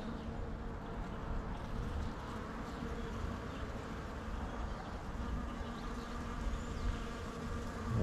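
Bees buzzing around a bush as they collect pollen, a dense steady drone of many insects close by, with no talking.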